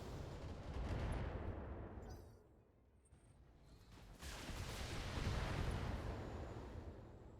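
Heavy weapon fire from battling mechs in the BattleTech game, including a Thunderbolt, rumbling as dense, continuous booming with a brief lull midway before swelling again, loud and without talk.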